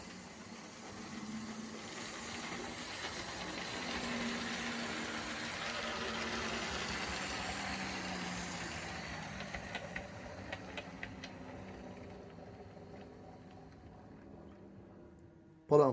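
A model Class 40 diesel locomotive draws in on a layout hauling the nightly Royal Mail train, its engine drone building and holding steady before fading toward the end, capped by a brief sharp knock.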